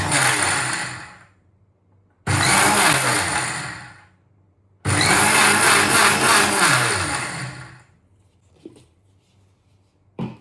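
A mixer grinder blending palm jaggery, half a cup of cocoa powder and roasted cashew-almond nut powder for a chocolate spread: three loud whirring bursts of a few seconds each, separated by short pauses, followed by faint clinks.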